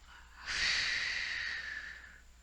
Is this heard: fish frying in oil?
no